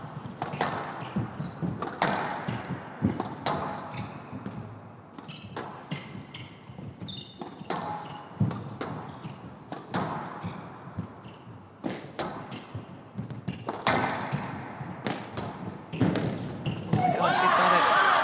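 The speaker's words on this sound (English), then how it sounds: "Once again, Gohar serving" Squash ball struck repeatedly during a serve and rally at the PSA World Championships women's match, sharp thuds and racket hits in an irregular rhythm beneath steady crowd noise and a commentator speaking.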